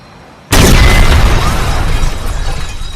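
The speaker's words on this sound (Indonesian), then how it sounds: "Yaitu adalah ledakan yang sudah biasa terjadi." A sudden, very loud explosion in a dystopian film erupts after half a second of quiet, then a dense roaring blast and rumble with debris fills the rest, slowly tapering.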